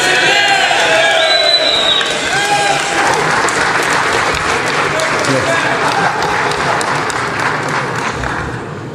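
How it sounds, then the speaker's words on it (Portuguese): A crowd at the inauguration of President Jair Bolsonaro applauds loudly and steadily, with scattered cheers. A voice and a brief tone sound at the start, then the clapping carries on and fades slightly at the end. "é aplaudido"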